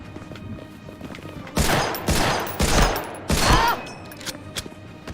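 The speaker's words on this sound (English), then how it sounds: "best sound effect for a Garand M1 ever" M1 Garand rifle fire in the video game Medal of Honor: Frontline, heard as four loud, sharp shots spaced about half a second apart over a quiet background, with no talking.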